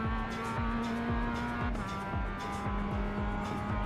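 A GT3 race car's engine in iRacing at Spa drones loudly and constantly, revving up in repeated gear-change sweeps with a brief shift near the middle, no voices.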